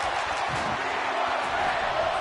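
A wrestling crowd at an indoor event roars continuously, a dense wash of cheering and shouting with no breaks, fairly loud and steady throughout.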